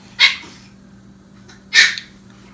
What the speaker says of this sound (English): That noise you hear is the Chihuahua.